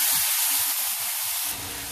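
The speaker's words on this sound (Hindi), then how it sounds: "लहसुन हमारा भुन चुका है, अब इसमें हम टमाटर डाल देंगे पिसा हुआ।" Ground tomato poured onto fried garlic in a hot pan, giving a loud, steady sizzling hiss that eases somewhat after about a second and a half, with a few low clunks at first and no talking.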